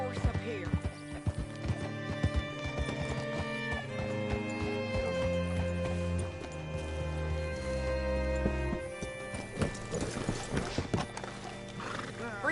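Horse hooves clop steadily on hard ground in the video game Red Dead Redemption 2, joined by a whinny, with music playing underneath and a voice briefly speaking.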